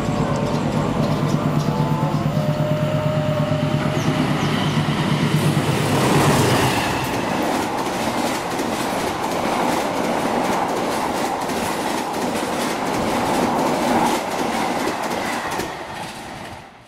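A train passes close by behind locomotive CC2061312 in Indonesia, a loud continuous rumble with rhythmic clacking of wheels over rail joints that builds midway and fades slightly at the end.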